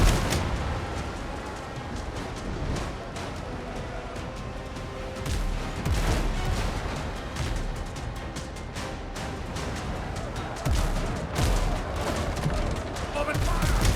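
Ship cannons open fire in a naval battle in the Windrose game, a dense run of booming shots and rumbling blasts over roughly fourteen seconds, loud and continuous, with voices talking underneath.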